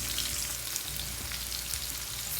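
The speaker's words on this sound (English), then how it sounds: "Sizzling away in this pan." Chicken pieces sizzle and fry steadily in a pan, a continuous dense crackle with small pops holding at an even, close level throughout, no voices.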